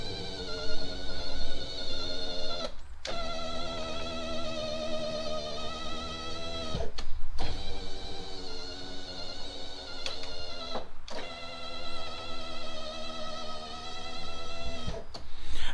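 Power window motor of a 2001 Toyota Camry hums steadily with a whining, strained tone, close up. It runs in long stretches broken by several brief stops as the glass travels up and down.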